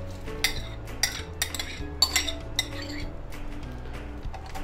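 A metal spoon stirs chopped watermelon and ice cubes in a glass, giving bright, irregular clinks and taps about every half second, with soft churning between them, close and alone.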